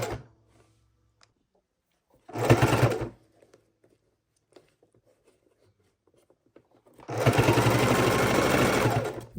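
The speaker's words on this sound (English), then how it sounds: "we're going to go ahead and sew our scant 1/4 inch, sewing these layers together" A sewing machine stitches a scant 1/4 inch seam through layers of a microwavable tortilla warmer, in two loud close bursts, a short one and then a longer run, separated by quiet.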